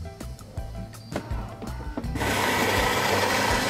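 A Philips 2200 Series LatteGo coffee machine making a cappuccino ticks and thumps rhythmically, then bursts into a loud, steady grinding whir that fills the rest of the clip.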